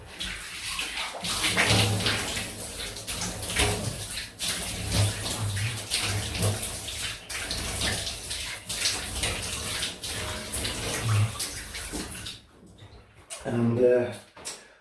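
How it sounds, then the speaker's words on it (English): Running water rinses shaving cream off skin after a shave with a Gillette Tech razor, splashing and flowing steadily up close with brief pauses, and a final burst of splashing at the end. "So I'll just rinse that slickness off."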